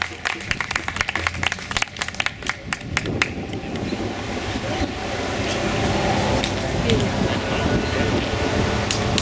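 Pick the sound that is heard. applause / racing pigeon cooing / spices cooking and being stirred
applause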